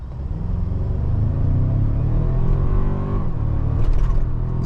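A 2024 Toyota Tacoma TRD Off-Road in sport mode pulls away hard from a standstill, its engine rumbling low and rising into a steady, building rev, heard close with no talk.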